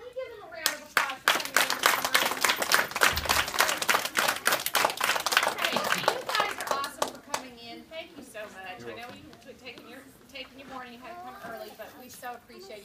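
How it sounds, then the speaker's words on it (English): Elementary students clap together at a school morning meeting, a loud burst of many hands lasting about six seconds before fading into children's chatter and an adult voice. "can we give them a round of applause?"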